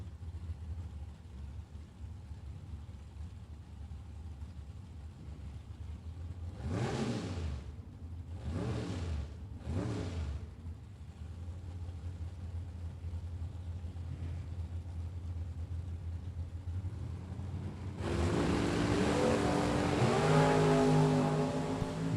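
Drag race at the World Super Pro Challenge between a Camaro and an Oldsmobile: a steady engine rumble throughout, with several sweeping rev surges midway and a loud, broadband roar of cars launching down the track near the end.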